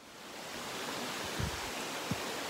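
Slide Brook flowing beneath a footbridge crossing in the Dix Range, a steady broad rush of water with a couple of faint low thumps, moderately quiet and continuous with no talking.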